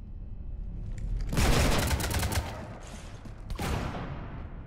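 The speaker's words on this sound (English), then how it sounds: "You want to stop shooting up my ship?" Gunfire shooting up a ship in Mass Effect 3: a dense, loud burst of rapid shots and impacts in the middle, then a second sharp burst, over a quieter background.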